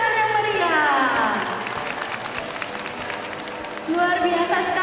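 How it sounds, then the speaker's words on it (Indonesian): Audience applause at an MC-hosted event, a steady wash of clapping under a presenter's amplified voice, which speaks at the start and again at the end. "Beri tepuk tangan yang meriah"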